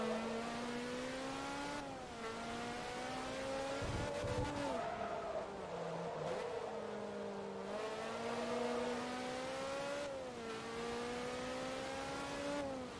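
Race cars in Forza Motorsport 2 roar continuously at close range, engines rising and falling through gear shifts and revs, with brief tire scrubs around corners, steady and loud throughout.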